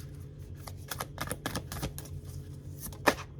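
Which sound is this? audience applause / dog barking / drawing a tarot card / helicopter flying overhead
drawing a tarot card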